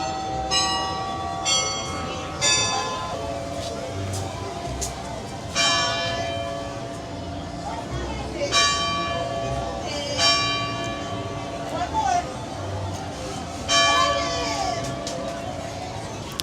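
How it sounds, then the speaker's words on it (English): A clock tower bell rings out repeated, evenly spaced chimes, clear and fairly near, each strike resonating over a steady murmur of outdoor crowd noise. "There you have it, 11 chimes, letting that clock tower live its best life."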